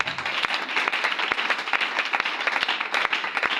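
A church congregation at a French-language worship service applauds to acclaim Jesus, with steady, dense clapping and sharp individual claps throughout, close and lively, with no voices over it.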